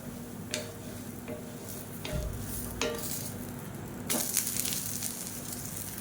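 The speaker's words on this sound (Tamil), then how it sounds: "இப்போ தோசை ஒரு சைடு வெந்துடுச்சு திருப்பி போட்டுக்கலாம்" A dosa cooks on a hot pan with a soft background sizzle, broken by a few light scraping and clinking taps as it is flipped.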